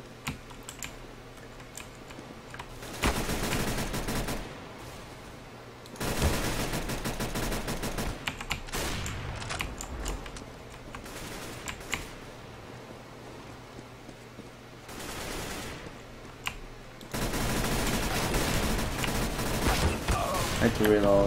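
Rapid SMG bursts fire in CS:GO, sustained crackling volleys of several seconds separated by quieter stretches, mixed with close keyboard clatter and someone talking.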